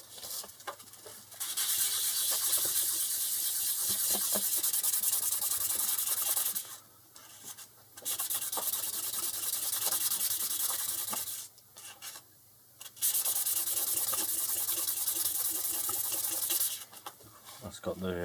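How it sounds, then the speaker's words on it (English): Steady back-and-forth rubbing of fine sandpaper smoothing the front face of a lock part from a Squire SS50C, loud and continuous with two brief pauses, no talking. "Smooth it off a little bit with some finer sandpaper."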